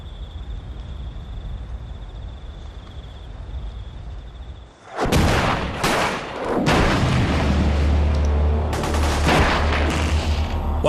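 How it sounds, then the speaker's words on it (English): Gunfire from a military firefight involving New Zealand SAS soldiers on patrol: after near silence, loud bursts of shots and booms erupt and continue as dense, overlapping fusillades for several seconds, close and intense. "While some soldiers trade fire with the enemy"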